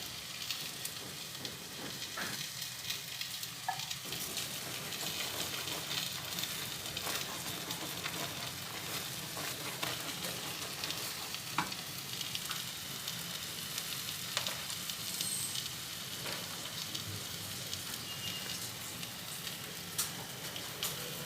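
A thick milk toffee mixture being stirred constantly in a pan, a soft continuous bubbling sizzle with faint scraping strokes, fairly quiet and without talk.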